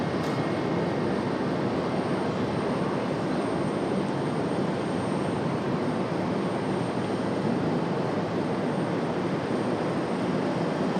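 A CRJ regional airliner arriving from Miami at Raleigh-Durham airport, a steady broad jet roar holding at even loudness throughout, heard from a distance with no voices.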